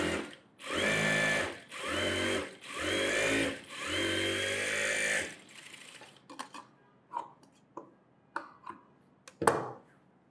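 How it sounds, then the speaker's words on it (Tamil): A sewing machine sews a press seam on a net blouse, whirring in four close, even bursts, followed by scattered light clicks and handling taps as the fabric is moved. "ப்ரெஸ் தையல் போடுறேன்"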